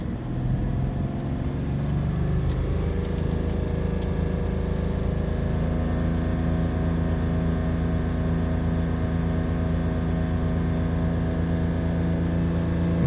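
A BMW 330d diesel engine is held at raised revs around 3000 RPM, its steady, loud, droning hum climbing briefly at the start and then holding constant throughout.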